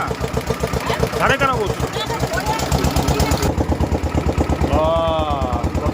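A motor boat engine starts up with a rhythmic, close chugging pulse, while people talk loudly over it.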